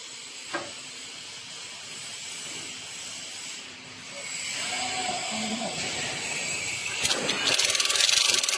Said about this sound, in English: Kubota engine.